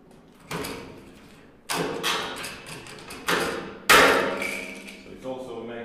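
Aluminum plates 1 mm thick being riveted with 4.8 mm rivets onto an electric-converted ATV frame: four sharp, loud metallic bangs spaced about a second apart, each ringing briefly before the next.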